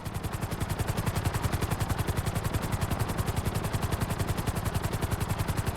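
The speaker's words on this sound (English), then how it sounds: "To maximize acceleration, keep the nose of the helicopter tipped." A helicopter in GTA V flies at full speed, its rotor beating in a fast, even, loud chop with a whining turbine underneath, steady and close throughout.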